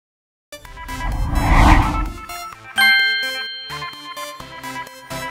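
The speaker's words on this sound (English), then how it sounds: "Like, subscribe, and hit that notification bell." A bright notification bell ding rings out as a sound effect, its tone sustaining and then a second chime striking, alone with no talk.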